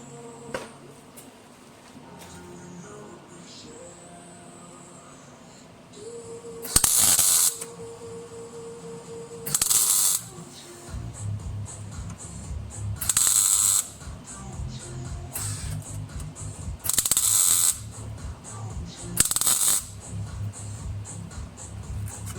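Tack welds go onto a Peugeot 406 inner sill, five short bursts of crackling, sizzling arc each lasting about a second, close and loud over a steady background hum and buzz, with no talking.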